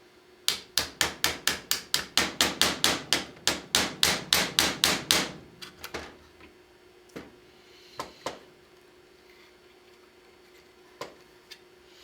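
A metal punch on an Intratec TEC9 hammer pin is struck with a hammer in a fast, steady run of about twenty sharp, close taps. A few scattered, fainter taps follow after a pause.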